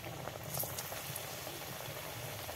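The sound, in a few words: cauliflower-stuffed pitha frying in hot oil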